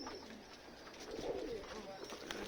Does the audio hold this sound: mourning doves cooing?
yes